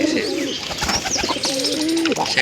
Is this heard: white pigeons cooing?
yes